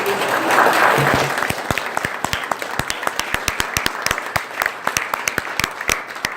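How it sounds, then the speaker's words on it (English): A room of people at a meeting gives a round of applause: a full burst of clapping that quickly thins into scattered, distinct individual claps continuing steadily. "Let's have a round of applause for these brave."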